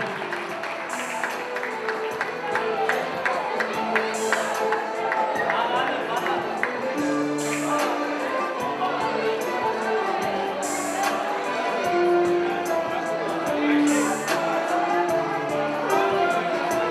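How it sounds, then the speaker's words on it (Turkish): Wedding guests clap and cheer for the Ender family in a lively hall, with steady applause mixed with shouts, chatter and ringing tones, all under a busy, continuous background. "Bir alkış alalım Ender ailesine."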